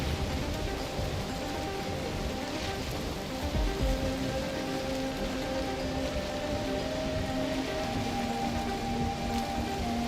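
Steady rain falls in the Norse survival game Valheim, an even, continuous hiss of drops holding at a constant level throughout, with faint tonal music-like hums underneath and no voices.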